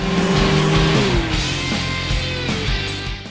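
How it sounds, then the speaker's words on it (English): Futuristic race cars from the VR racing game Rise: Race The Future, a thin, whiny engine drone with a shifting pitch and a few brief tire squeals, loud and continuous with no talk. "One might argue the cars sound like glorified vacuum cleaners"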